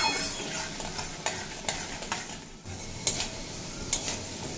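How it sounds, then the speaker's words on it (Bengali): Potatoes frying in a pan over a low to medium flame while being stirred: a constant soft sizzle broken by periodic scraping strokes of a spatula, close and moderately loud, with no talk. "আলু 2-3 মিনিট মতো ভেজে নিয়েছি।"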